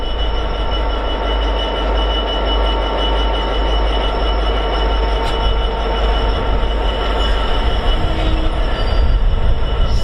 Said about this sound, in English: arriving in, just snuck up behind me, is a DB cargo service from Felixstowe to East Midlands Gateway, operated by 66050